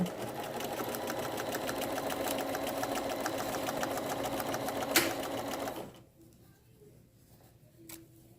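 A Bernina 325 sewing machine hums steadily while stitching stretch binding onto a head sock mask, then stops, leaving a quiet room with a faint click.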